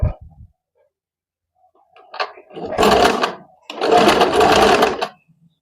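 A sewing machine stitching tucks into half-inch folds of fabric runs in two loud close bursts of rapid whirring after a short quiet lead-in.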